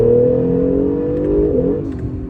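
A 2017 Acura NSX pulls hard in third gear from 3,000 RPM, its engine giving a steady, loud, close-up drone whose pitch shifts slightly partway through, with no talking.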